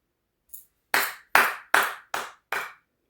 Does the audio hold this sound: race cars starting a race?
no